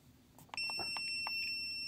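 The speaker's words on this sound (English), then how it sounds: "it's like a steady beep because the click rate is so high" A Geiger scintillation radiation detector near a check source: a rapid chirping onset followed by a steady, continuous high-pitched electronic tone that holds without break as the click rate climbs, loud and close, no voices.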